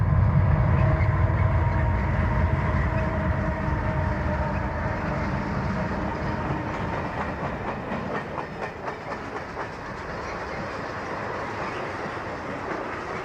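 Freight train running westbound under the Fahey Street Bridge, a steady rumbling roll with rhythmic clickety-clack of wheels growing through the pass, fairly near and continuous.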